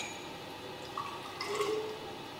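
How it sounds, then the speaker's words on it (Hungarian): Small amount of water poured into a glass test tube onto sodium hydroxide pellets, a faint brief trickle and drip against a quiet room background. "Erre öntök egy kis vizet"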